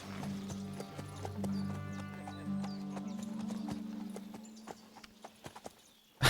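Horse hooves clip-clop in the medieval game Kingdom Come Deliverance II, a steady rhythmic series of close hoofbeats over a low droning hum, ending with a sharp louder hit.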